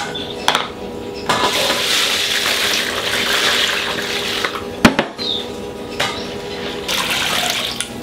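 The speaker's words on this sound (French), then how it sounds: "l'orge, je la rince" Barley is rinsed under running water from a kitchen tap, a steady close splashing stream with a few clattering knocks and bumps as the grain is swirled.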